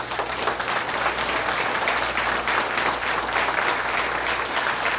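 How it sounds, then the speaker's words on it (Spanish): Church congregation applauding after a prayer, a steady dense wash of clapping from many hands that holds evenly for about five seconds without letting up. "Den un aplauso, Señor."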